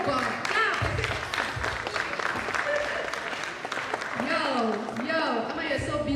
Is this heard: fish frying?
no